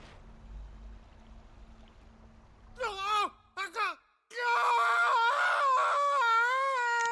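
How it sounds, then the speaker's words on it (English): A blood-curdling scream from a character in Final Fantasy 16 on PS5: after low rumbling ambience, wavering high wails and cries break out close and loud, then a sustained anguished scream with a trembling pitch. "Blood-curdling scream."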